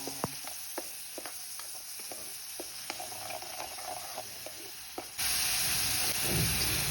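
Chopped tomato, onion and chili sizzle and fry in hot oil while being stirred, steady close hiss with scattered scraping clicks, swelling into a louder, brighter sizzle near the end.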